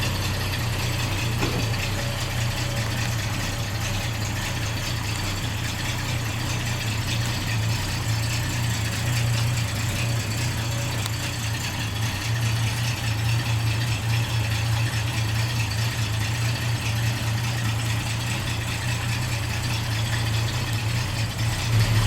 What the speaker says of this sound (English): We're going to drive it forward a few feet, and then we're also going to put it in reverse and try it that way too.